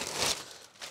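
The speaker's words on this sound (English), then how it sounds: "I also keep my tarlatan in a plastic bag that's been used." A used plastic bag crinkles briefly up close as it is handled, holding a piece of tarlatan cloth kept for printmaking; one short, dry rustle with no voices.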